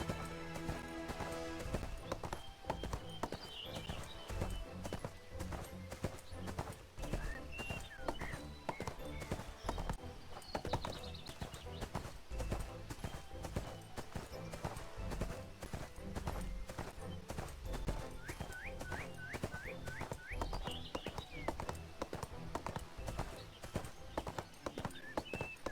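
Horse hooves gallop in the ArcheAge video game, a rapid, steady clip-clop rhythm running throughout alongside background game music.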